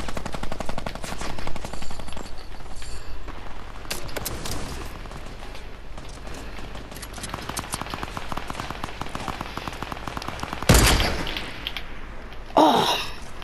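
Rapid automatic gunfire from a new weapon in Fortnite rattles in dense bursts through most of the stretch, joined near the end by a couple of louder blasts.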